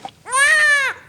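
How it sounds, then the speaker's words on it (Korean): A newborn baby in a television drama set in an island village cries loudly in a single sustained wail, close and clear, after a brief quiet moment. "우렁찬 아기 울음소리가 울려 퍼집니다."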